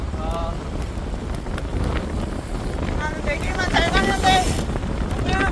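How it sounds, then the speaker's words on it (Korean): Strong wind buffets the microphone in a continuous roar while cycling through heavy rain, loud and close, with people talking over it. "비가 많이 와. 바람도 많이 불어."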